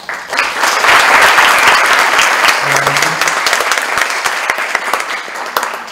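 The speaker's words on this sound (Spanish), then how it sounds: "Les pedimos a los ponentes con un aplauso" Sustained applause from a conference audience for the panel speakers at an international political rights observatory, steady dense clapping lasting throughout and fading slightly toward the end.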